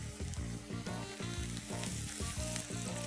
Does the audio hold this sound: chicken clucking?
no